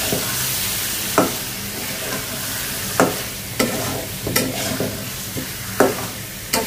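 Fish frying in spiced masala in a wok, a steady sizzle broken every second or so by sharp stirring scrapes and clatters, close and loud with no talking.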